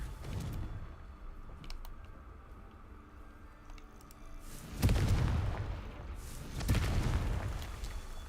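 Confringo blasting curse explosions in the Hogwarts Legacy game, two booming blasts a couple of seconds apart over a low rumbling game ambience, each hitting hard and then decaying.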